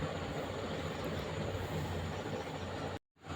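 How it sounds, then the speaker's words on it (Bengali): A train pulling into a crowded station, its loud broadband rumble and rolling roar filling the scene steadily, then cut off abruptly near the end. "তো তারপর বলতে বলতে ট্রেন চলে এসছে, আমিও ট্রেনে উঠে গেছি"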